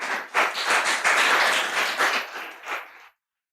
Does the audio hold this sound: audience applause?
yes